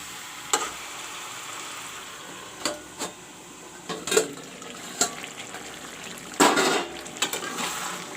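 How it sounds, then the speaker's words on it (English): A steady low hiss of chicken, onions and potato frying in a covered pan, with a few sharp clinks and scrapes scattered throughout and a louder burst near the end. "you can see the chicken, potato and the onion, they are frying now"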